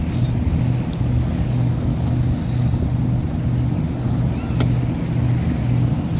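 A boat engine drones steadily, loud and close, with wind rushing over it. The sound is continuous and unbroken.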